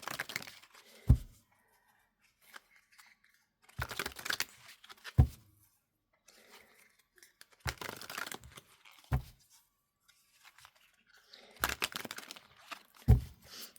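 Tarot cards shuffled and pulled from a deck, sounding as several separate bursts of quiet papery riffling and crinkling, each ending in a soft tap, with stretches of near silence between them and no talk.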